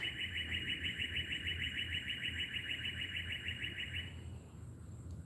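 A small bird chirps rapidly and repeatedly from a tree close by on a quiet morning, a bright, even trill that runs for about four seconds before stopping, with no talking.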